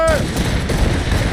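Ship cannons fire a volley in Assassin's Creed Rogue, loud booming blasts that roll into a rumbling echo over a short burst, following a shouted command.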